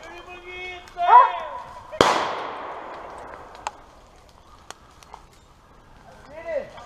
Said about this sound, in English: Shoot him again, Sam.